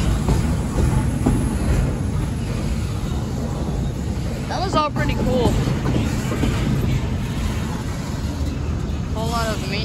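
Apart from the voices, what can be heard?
CSX manifest freight train passing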